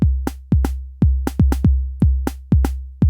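A clean pattern from an Elektron Model:Cycles drum machine gives booming, decaying kick-like hits with sharp clicky transients in a steady syncopated rhythm, loud and dry with nothing else playing.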